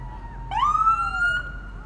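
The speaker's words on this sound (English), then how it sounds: "You gotta run the sirens at the parade." Emergency vehicle siren at a Veterans Day parade in Wichita, a single rising wail that swells up and holds, heard moderately close over faint outdoor background.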